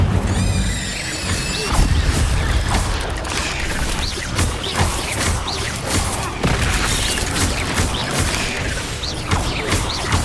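Leviosa and Incendio spells are cast again and again in the Hogwarts Legacy video game, giving a dense, busy run of whooshes, crashes, thuds and magical impacts that repeat in quick succession throughout.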